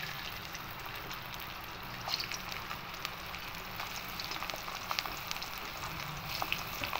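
Pieces of kakrol, or spiny gourd, fry in oil with a soft, even sizzle and small scattered pops. The sound is fairly quiet and steady, with no voices.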